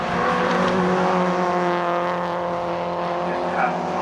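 MG cars lap Oulton Park in an MG Owners Club championship race, including an MG ZR, with a steady loud engine drone and tire noise under a commentator talking.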